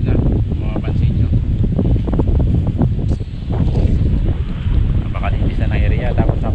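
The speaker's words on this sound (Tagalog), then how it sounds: "kaya lang napakalakas na hangin" Strong wind buffets the microphone in a loud, constant roar with gusty surges, and water sloshing faintly beneath it.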